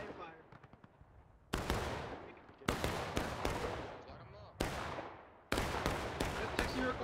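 Musket volleys from War of Rights, a Civil War battle game: several sharp, loud broadband cracks in clusters, some alone and some in quick ragged succession, each trailing into reverberant decay, with faint voices in the background.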